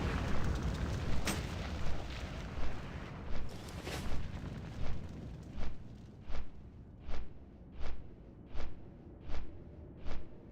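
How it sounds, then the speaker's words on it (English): Bombs dropped on a World of Warcraft bombing quest go off as a dull rumbling barrage, followed by a steady run of about a dozen evenly spaced sharp booms near the end. "I'm on a bombing mission for Forward Commander Kingston."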